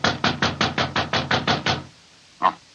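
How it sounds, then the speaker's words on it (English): Nine quick, evenly spaced knocks on a dressing room door, loud and close, followed by a pause and one more single knock, with no voices. "He must be in his dressing room. I'll knock again."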